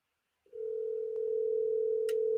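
Telephone ringback on an outgoing call, a single steady electronic tone starting abruptly and holding without break, close and clear, with a brief click and a short burst of noise near the end.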